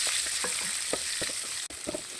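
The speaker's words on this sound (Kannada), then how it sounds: "ಈಗ ಇದಕ್ಕೆ ಈರುಳ್ಳಿ ಹಾಕ್ಕೊಂಡು ಸ್ವಲ್ಪ ಫ್ರೈ ಮಾಡ್ಕೊಂಡಿದ್ದೀನಿ." Onions sizzling in a pan with mustard seeds, urad dal and asafoetida, a close, steady hiss with several short stirring scrapes at a regular pace, no voices.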